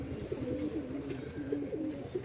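Madras pigeons coo close by in soft, repeated, throaty rolling calls under a low background murmur, with no talking.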